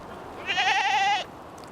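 A single goat gives one clear, wavering bleat of under a second, close by in an Edmonton park, with only quiet outdoor background around it.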